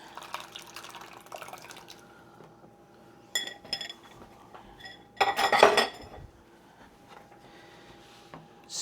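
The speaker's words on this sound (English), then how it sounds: "So now we're gonna add our wet to our dry." Wet and dry ingredients are stirred together in a bowl for breakfast freezer meals. A spoon clinks and scrapes intermittently against the bowl, with one louder burst of clattering near the end. No one speaks.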